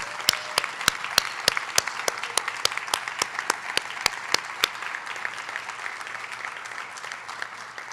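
An audience at a health sciences university white coat ceremony applauds steadily, a dense wash of clapping with sharp individual claps standing out early, then settling into an even, moderately distant roar.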